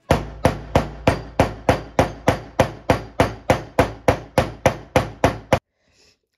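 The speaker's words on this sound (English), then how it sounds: "what I'm doing is hammering it down with my fabric cutting scissors" Fabric cutting scissors hammer down the thick seam of a pair of jeans, about twenty sharp, evenly spaced thwacks in a steady rhythm, loud and close, then stopping abruptly into near silence.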